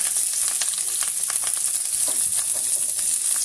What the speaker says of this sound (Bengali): আর বাকিগুলো আমি ফ্রাই করে নেব